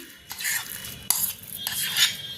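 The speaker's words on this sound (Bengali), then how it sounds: "প্রথমে আলুর মধ্যে আমি সুজিটাকে দিয়ে দিচ্ছি।" Semolina is being mixed into mashed potatoes in a bowl for masala puri, producing soft repeated scraping and stirring strokes close up, with a sharper clink of a utensil midway.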